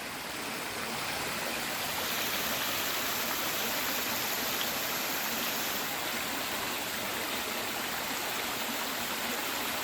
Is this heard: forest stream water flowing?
yes